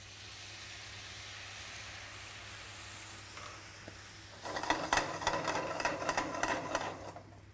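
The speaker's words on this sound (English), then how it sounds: "Once the cognac's in, it's important to reduce that down to deglaze the pan" Cognac hits a hot pan for deglazing and breaks into a faint, crackling sizzle of rapid pops partway through, after a quiet stretch.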